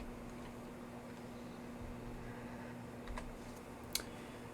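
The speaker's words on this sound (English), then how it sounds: "So I can just type these names in real quick." Names being typed on a computer keyboard, a soft, quiet run of key clicks over a low steady hum, with one sharper tap near the end.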